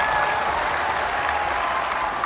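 A large audience at a political rally in Darrang, Assam, claps in a dense, sustained burst of applause that fills the whole moment without any voices over it.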